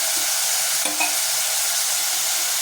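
Onions fry in a pan until deep red, giving off a loud, steady sizzle with a brief utensil clink partway through and no voices.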